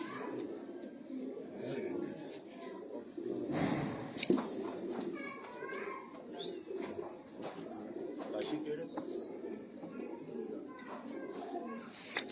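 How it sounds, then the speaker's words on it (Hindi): A Teddy pigeon coos softly in a pigeon-keeping setting. The calls are partly masked by someone talking and by children's voices nearby. "टैडी कबूतर।"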